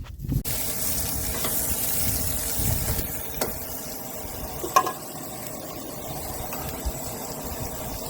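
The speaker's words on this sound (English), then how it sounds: "I just grill it up on the stove right there," Food sizzling as it grills on a camping stove, a steady close hiss and crackle with a few small clicks and knocks, and no voices.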